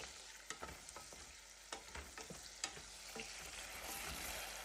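Garlic frying in a pan while being stirred, a soft continuous sizzle with scattered sharp clicks and scrapes of the spoon against the pan, fairly faint.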